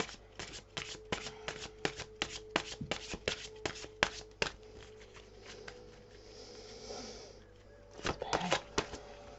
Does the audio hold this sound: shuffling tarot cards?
yes